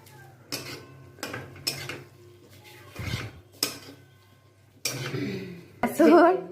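Spiced masala is stirred in a cooking pot with a metal spoon, giving repeated scraping clanks against the pot, with some voice sounds near the end.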